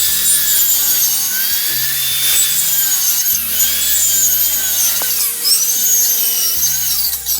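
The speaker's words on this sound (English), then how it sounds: "Now your saw has an adjustment on it where you can adjust how deep the cut goes." A power saw with adjustable cut depth cutting wood for tiny house rafters off grid, a loud continuous close whine with shifting motor pitch and a steady buzzing drone throughout.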